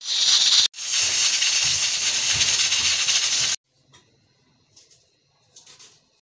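Steam from a pot of potato and spinach hisses loudly and continuously for a few seconds, then cuts off sharply, leaving quiet broken by a few brief soft puffs.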